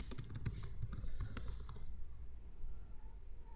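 Quick bursts of computer keyboard typing for payroll entry in Tally Prime, a run of close, crisp key taps in the first half that then stop, leaving a low room hum.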